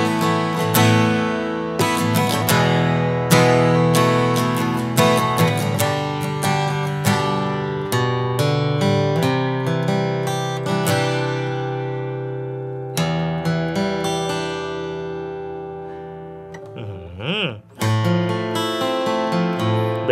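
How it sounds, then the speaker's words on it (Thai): Kazuki Exotic Series Transacoustic electro-acoustic guitar strummed in full, ringing chords with repeated sharp strokes, close and loud, with a brief pause partway through before strumming resumes. "ตีคอร์ดน่าจะมันนะตัวนี"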